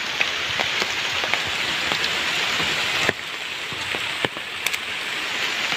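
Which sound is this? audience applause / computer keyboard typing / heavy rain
heavy rain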